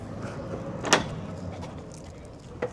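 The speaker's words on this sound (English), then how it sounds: "So opening up our sliding door," The sliding side door of a 2027 Adria Twin campervan rolls open with a sharp clunk from the latch, followed by a low running rumble and a smaller knock near the end.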